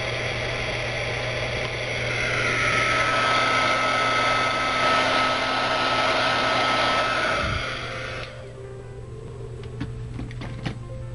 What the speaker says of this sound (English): I didn't want to talk while the heat gun was going